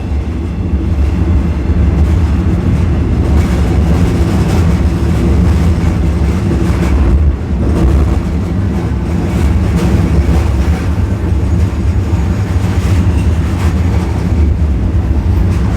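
A steady, loud rumble of a train rolling over a bridge between Nong Khai, Thailand, and Laos, continuous clatter and low drone throughout with no voices.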